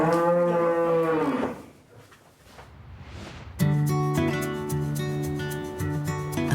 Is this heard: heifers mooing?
yes